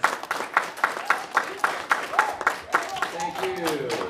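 Scattered audience clapping at an elementary school production of A Midsummer Night's Dream, uneven hand claps running steadily under a voice that talks over them throughout.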